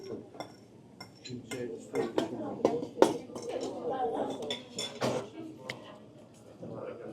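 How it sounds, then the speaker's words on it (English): A metal spoon clinks against a dish of hot Korean cheese corn at a table, with repeated light clinks and scrapes over a steady low room murmur. "I'm gonna use a spoon just because sometimes it falls between the chopstick."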